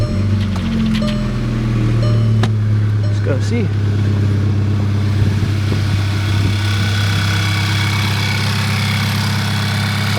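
A Volkswagen Mk6 GTI, fresh from an oil change and still fairly warm, idles with a steady low engine drone close by, while someone speaks briefly over it.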